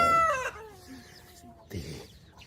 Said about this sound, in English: These are where McCarthy's chickens actually live